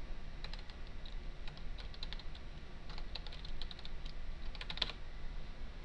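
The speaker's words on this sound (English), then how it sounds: "You type in www.twitter.com" Quiet, rapid keystrokes on a computer keyboard as a website address is entered, arriving in short bursts of clicks separated by brief pauses over a faint background hiss.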